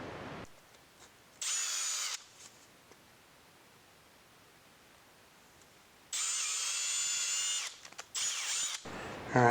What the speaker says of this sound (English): It's going to have to be bored out a little bit, so do some hogging.